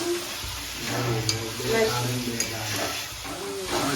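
Tomatoes hit a hot pan of sizzling Kathiyawadi olo and are stirred, giving a steady frying hiss with scraping movement, while a person speaks over it nearby.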